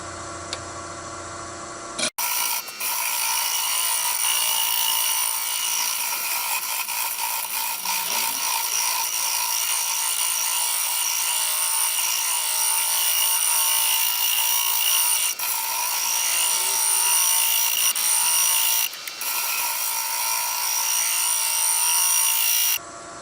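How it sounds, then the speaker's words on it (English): A wooden striped platter spins on a lathe as a 3/4 inch round nose tool cuts into glue-covered wood, making a continuous close scraping whir with brief breaks near the start and toward the end. "use my 3/4 inch round nose and see if it helps any"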